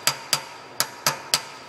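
A metal part tapped down into a machine vise with a hammer: five sharp, close taps at slightly uneven intervals, each with a short ringing decay, no voices.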